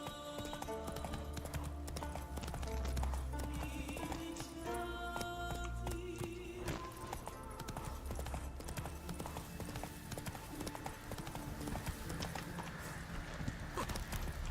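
Roach the horse trots in The Witcher 3, hooves clip-clopping in a quick steady rhythm close by, with a whinny partway through, alone with no talk.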